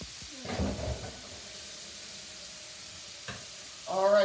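Butter sizzles in a hot pan ahead of cooking chicken tikka masala: soft hissing with short crackling bursts near the start and again at the end, close by and fairly quiet.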